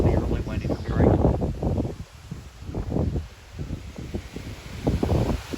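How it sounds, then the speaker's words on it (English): Gusty wind blows outdoors in Texas ahead of a rainstorm, soft rumbling bursts buffeting the microphone that rise and fall over a few seconds. "ain't nothing but wind out here"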